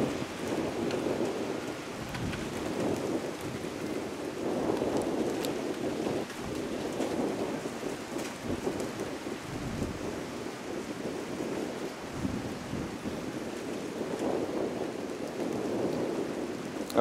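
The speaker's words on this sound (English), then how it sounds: "the nice breeze you hear is from the ocean" Steady rushing ocean breeze on a coast in Gambia, a broad continuous wash of wind noise buffeting the microphone at moderate level for the whole stretch, with no voices.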